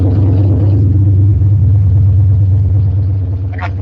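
Exhaust of a turbocharged Fox Body Mustang during a tuning session: a loud, steady low idle rumble that holds throughout with a brief higher chirp near the end.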